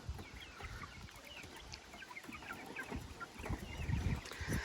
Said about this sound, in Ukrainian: У нас в одній клітці живе більше 30 курчат.